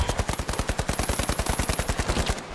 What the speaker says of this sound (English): you don't have to do nothing to control the recoil on this gun